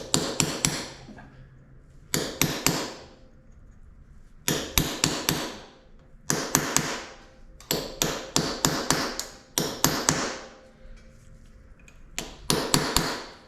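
A hammer strikes a chisel to break an ATV chain master link on a 2009 Yamaha Raptor, sharp metallic blows in quick clusters of three to five, repeated about eight times, loud and close.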